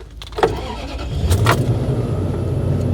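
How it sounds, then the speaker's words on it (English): A car engine cranks briefly and catches, then settles into a steady idle hum, close by and fairly loud. "Now it says start the engine 1 time within 30 seconds."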